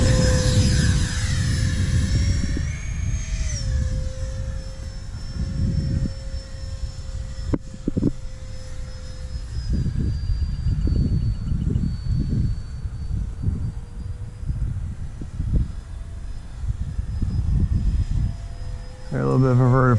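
A Habu radio-controlled jet airplane flying inverted over a mucky runway area, its steady whining turbine hum sustained throughout with shifting pitch, fairly close, with occasional bumps and handling noises.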